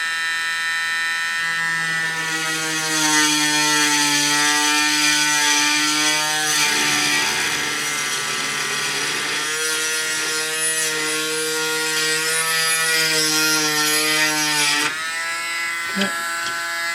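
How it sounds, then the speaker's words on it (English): Dremel rotary tool drilling a small hole in a part of a Valhalla 2500EP current calibrator under repair, a loud, continuous high-pitched whine held close for about fifteen seconds with slight pitch dips under load, then stopping abruptly. "Let's drill one right here."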